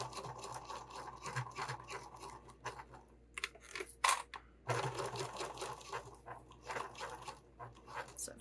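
A home sewing machine stitching through thick webbing on a sling bag, a fast rhythmic whirring of needle strokes in uneven bursts with brief stops, fairly quiet and close.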